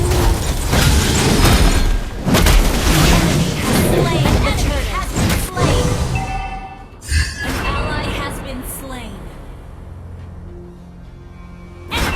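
A turret being destroyed in the mobile battle game Mobile Legends: Bang Bang, heard as loud booming, crackling blasts and bursts amid busy game effects, easing into quieter effects and a brief pop near the end.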